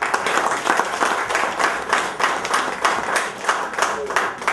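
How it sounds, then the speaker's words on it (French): An audience at a Paris concert presentation claps for a singer, steady rhythmic hand claps at moderate loudness, with some voices mixed in. "On applaudit pour elle, s'il vous plaît."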